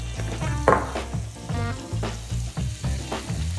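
Chili fries in oil and butter in a pan with a steady, close sizzle. Rhythmic stirring scrapes are spaced through it, and nobody speaks.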